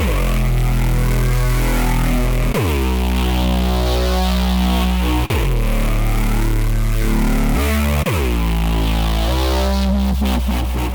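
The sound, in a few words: synthesizer bass with LFO filter and reverb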